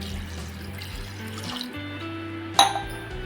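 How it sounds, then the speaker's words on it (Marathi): Water poured into a pot of overnight-soaked chickpeas and peas for a Maharashtrian usal: a steady, fairly quiet wash of pouring, with a bright clink near the end. "आपण याच्यामध्ये टाकणार आहोत पाणी"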